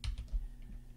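Brief burst of computer keyboard typing while working in an Excel spreadsheet, several quick close key clicks in an uneven rhythm over a low hum.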